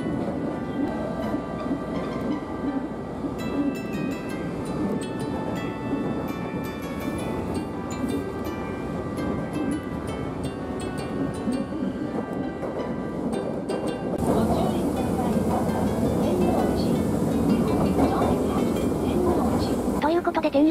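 Osaka Metro 10 series subway train running, its loud, steady wheel and motor roar sustained throughout and rising in intensity partway, with the tonal whine of the drive audible under a voice.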